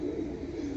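Pigeons kept as flying birds for sale give a steady low cooing, close and continuous, with no talk over them.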